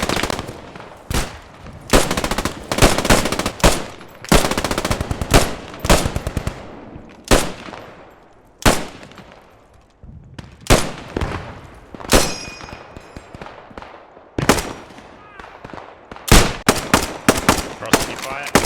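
Machine gun crossfire in the World War II game Post Scriptum: loud, close bursts of automatic fire crack in rapid clusters, separated by short pauses, with distant shots echoing between them.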